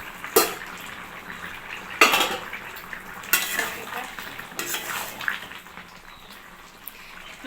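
Spices poured and stirred into a simmering rohu fish curry with ash gourd, a few distinct scraping stirs and clinks of utensil against pot over a low background bubble, close and moderately loud.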